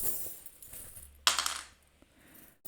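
A brief metallic clatter as small metal charms drop onto a hard surface, one sharp burst followed by a few faint tinkles in a quiet room.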